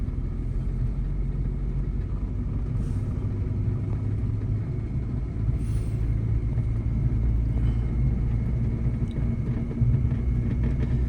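A car driven in second gear during a driving lesson gives a continuous low engine and road rumble from inside the cabin, steady and unbroken, with no talk.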